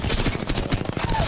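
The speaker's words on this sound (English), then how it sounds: "I'm gonna shoot." Rapid automatic gunfire in the video game Apex Legends, a loud, close burst of evenly spaced shots lasting just over a second, with no talking.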